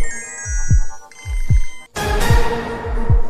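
A mobile phone rings during a Swahili feature film scene, a repeating electronic ringtone with rhythmic pulses that changes pattern partway through, loud and close with no talk over it.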